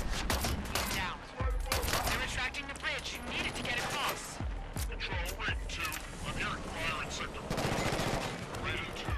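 Sustained gunfire from the first-person shooter Killzone: Shadow Fall, with bursts of automatic fire and individual shots cracking in rapid succession across a dense mix of game sound.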